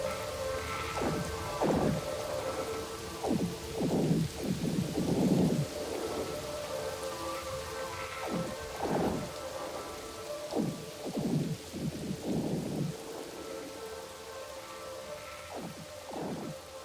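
Steady rain hiss with repeated low rumbles of thunder rolling in and out at irregular intervals, moderately quiet throughout.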